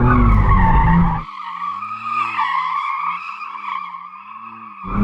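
McLaren Artura sliding sideways in a drift, its tires squealing in a loud, wavering sustained screech over engine drone, fading briefly near the end.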